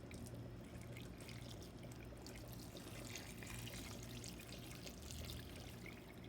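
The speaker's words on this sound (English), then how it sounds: "put more hot water in it" Hot water pours steadily in a soft, continuous stream, faint and close, with no talking.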